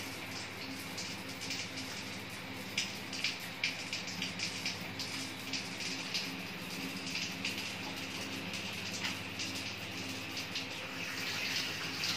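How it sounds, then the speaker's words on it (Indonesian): Running tap water streams steadily into a sink while hands are washed with soap before a patient examination, with a continuous rushing flow and small splashes near the listener. "kita membersihkan tangan dulu dengan air mengalir dan sabun"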